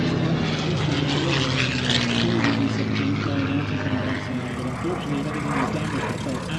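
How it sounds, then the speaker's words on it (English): Mustang propeller aircraft fly past at an airshow with a loud, sustained engine drone that holds steady throughout, and a voice speaks over it. "Oh, listen to those aircraft."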